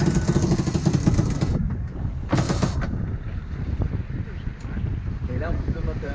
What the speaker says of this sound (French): Là, on arrête le moteur.